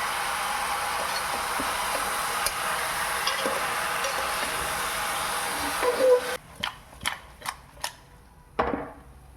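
Continuous frying sizzle, then a series of sharp scraping strokes of a spatula stirring egg in a pan, close and rhythmic.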